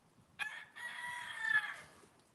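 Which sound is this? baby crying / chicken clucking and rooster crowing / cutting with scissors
chicken clucking and rooster crowing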